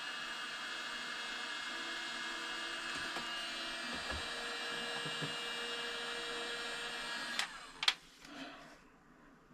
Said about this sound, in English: My heat gun's gonna run out of battery here pretty soon.